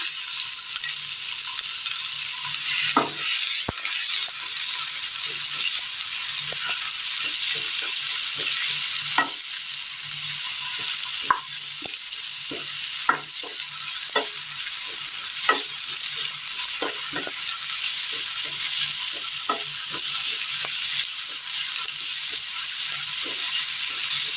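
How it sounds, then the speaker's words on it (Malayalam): Two thickly sliced onions sautéing in oil in a pan for a Kerala dish, a loud, continuous close-up sizzle with scattered scraping stirs throughout and no voices. "2 സബോള കട്ടി കുറച്ച് അരിഞ്ഞെടുത്തത് എണ്ണയിലേക്ക് ഇട്ട് കൊടുക്കാം."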